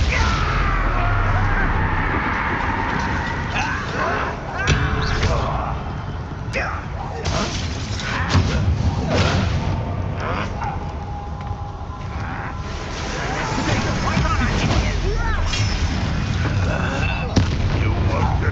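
Bombarda blasting spell booming in the video game Hogwarts Legacy amid a chaotic goblin battle, with repeated loud explosive bursts and crackling impacts layered over shouted character dialogue and a droning siren-like wail throughout.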